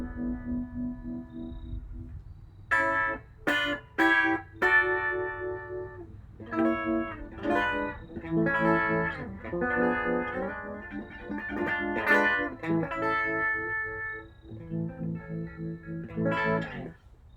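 Guitar through a 1959 Fender Brown Vibrasonic tube amp with the vibrato on: clean picked notes and chords with a deep, pulsing swirl, played alone in separate phrases with short gaps.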